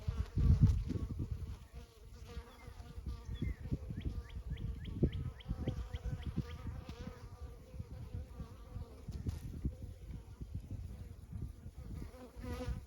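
Steady buzzing of many honeybees around a hive, some returning with pollen, a continuous insect drone with individual bees passing close, and a few faint bird chirps in the background.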